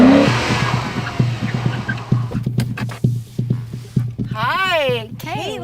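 Tire squeal from a Genesis G70 3.3 V6 in an aggressive, fast car chase: engine rumble with rhythmic thumps, then wavering high squeals rising near the end, loud and close.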